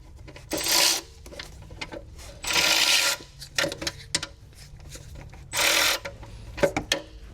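A ratchet spinning 10 mm bolts off a Hyundai Kona gearbox, three loud bursts of rapid zipping clicks separated by quieter clinks and handling of tools, no voices.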